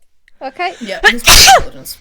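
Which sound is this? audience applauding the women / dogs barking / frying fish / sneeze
sneeze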